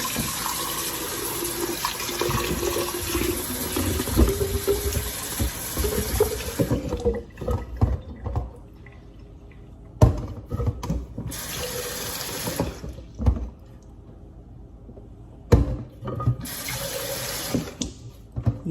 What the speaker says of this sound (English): just fill it up with room temperature water